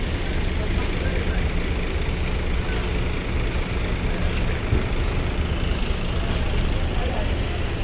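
A Handoyo bus idles and moves at the PPKM checkpoint at Bakauheni port, its engine rumbling steadily among heavy vehicles, with a brief air-brake hiss and people talking nearby.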